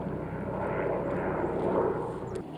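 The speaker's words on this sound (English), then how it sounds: "You always got to turn around and look when you hear a helicopter." A steady low mechanical drone of a helicopter or aircraft passing overhead, fairly constant and moderately loud with no talking.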